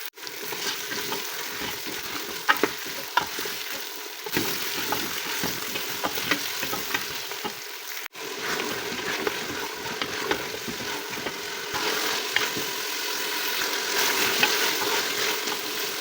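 Turnips, fenugreek and mutton fry in a pan, a steady hiss of sizzling oil with the scrape and clatter of stirring layered over it. The sound is continuous and close and stays loud throughout, with no talk.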